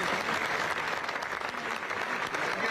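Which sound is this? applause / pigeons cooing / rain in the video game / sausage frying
applause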